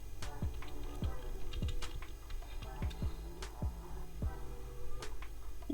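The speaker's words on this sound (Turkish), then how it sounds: "Klavyenin sesi geliyor bana." Rapid computer keyboard typing with scattered individual key clicks in an uneven rhythm, fairly faint and steady, coming through an online video chat connection over low background noise.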